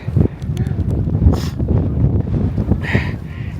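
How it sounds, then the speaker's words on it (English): Wind gusting across a mountain high point during the Never Summer 60k ultra race, buffeting a microphone with a low, uneven rumble and faint rustling that swells and eases throughout. "It's kind of windy up here"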